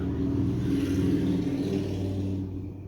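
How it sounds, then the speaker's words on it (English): A motorcycle passing by outdoors, a steady mid-pitched engine whir rising and then fading away after a couple of seconds, fairly faint and with no talk over it. "That's a person on a motorcycle that just went by"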